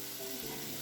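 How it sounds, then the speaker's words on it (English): Onions and leeks frying in a pan for a leek and potato dish, a short burst of soft, even sizzling. "Stir it around to get the vegetables coated."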